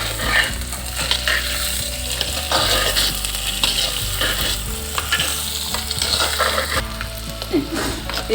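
Sliced onions frying with bitter gourd in a pan for a Kerala pavakka theeyal, a continuous loud sizzle with repeated scraping strokes of a stirring spoon, close and without talk.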